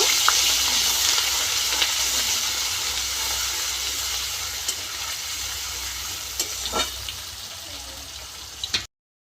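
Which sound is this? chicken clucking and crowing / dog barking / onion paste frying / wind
onion paste frying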